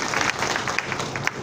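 An audience at a political speech in Navapur breaks into applause, a dense, steady wash of many hands clapping throughout, fairly loud and without a pause.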